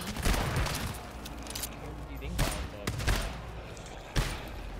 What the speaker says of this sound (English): That shotgun stuff was really close to my noggin.